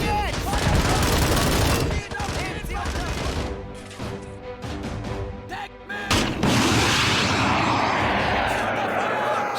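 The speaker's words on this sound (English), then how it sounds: "Heavy fire, dudes. Heavy fire." Heavy, sustained gunfire with bursts of rapid shots and booming artillery in a nostalgic battle simulation video game, loud and dense throughout, with aircraft noise in the mix and a brief lull before the barrage resumes.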